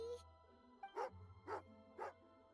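Three sharp, evenly spaced barks from an angry dog in the video game Genshin Impact, loud and close, over a low steady game hum with a brief voice just before.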